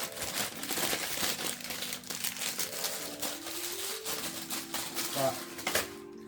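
Packaging crinkles and rustles during the unboxing of a Ninja BN800UK food processor, steady close-up rustling with occasional sharper clicks as plastic and cardboard are handled, while a voice talks in the background.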